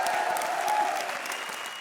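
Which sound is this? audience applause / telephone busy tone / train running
audience applause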